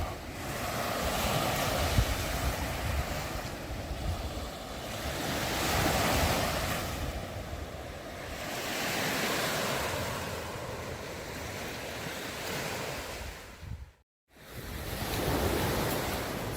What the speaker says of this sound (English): And emerge on a beach that very, very few people know about.